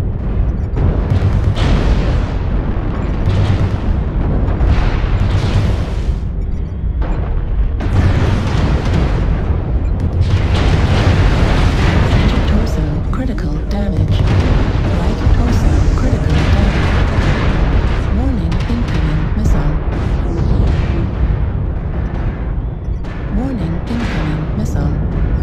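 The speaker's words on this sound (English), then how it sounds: "Artillery strike activated." Artillery strikes in a video game, with repeated heavy booming explosions and rumbling blasts in quick succession, loud and dense throughout, with brief automated voice announcements between them.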